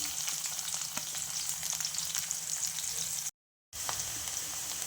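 Onions sizzle steadily in hot oil for a horse gram dish, a dense, even frying hiss with scattered pops that cuts out completely for a moment before resuming.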